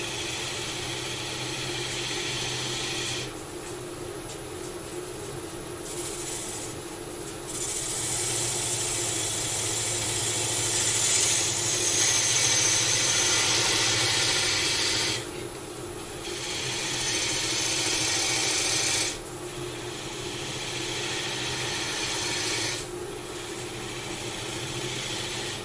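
A wood lathe hollows a vase with a quarter gouge. A steady, loud motor drone runs throughout, and harsher scraping bursts of cutting rise over it several times.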